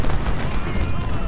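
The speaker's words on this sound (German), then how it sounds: "da gibt es gerade eine doofe Salve" Musket volley gunfire from the Ultimate General: Civil War video game, a dense, loud burst of overlapping shots filling the moment as a massed salvo with no pauses.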